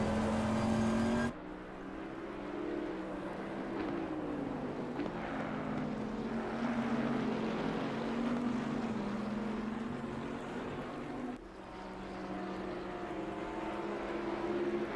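A big, heavy, powerful Bentley race car in Assetto Corsa Competizione at Misano drones with a steady engine note, holding a sustained pitch with a brief dip near the start and another late on, without talk.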